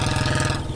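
A motorbike engine runs close by with a steady, fast pulsing throb that fades slightly at the end of a brief moment. No voices are heard.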